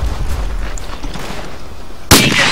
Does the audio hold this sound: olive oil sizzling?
no